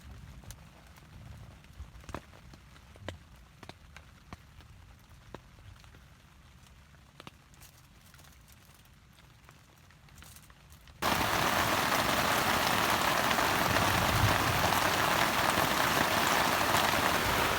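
Steady rain patters on a surface at a campground in thick fog, quiet with scattered drips at first, then abruptly turning into a loud, dense hiss of heavy downpour.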